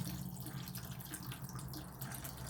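Coolant fluid draining from a PC water cooling loop, a quiet steady trickle and splash of liquid running out, close but faint and continuous.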